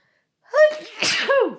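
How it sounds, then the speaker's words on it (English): A single sharp sneeze with a drawn-in breath before it and a short vocal tail after, close and loud, no talking. "I feel a sneeze coming on."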